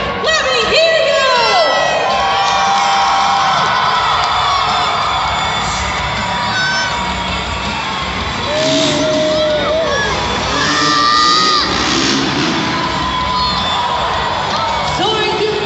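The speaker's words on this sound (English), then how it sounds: "Keep those cheers going, Austin fans, because the higher you cheer, the higher they fly." An arena crowd at a Monster Jam freestyle motocross show cheers and whoops loudly and continuously, with many shouts and yells from the audience throughout, and an announcer's voice carrying over the roar at times.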